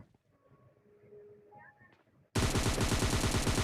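Gunfire from the video game PUBG Lite starts abruptly as a loud, sustained burst of rapid automatic shots after a quiet stretch of faint game ambience and small tones.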